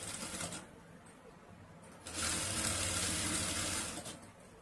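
Sewing machine stitching a jacket made from a saree pallu: faint mechanical whirring in short bursts, with a longer steady run in the middle, quiet and close with no talking.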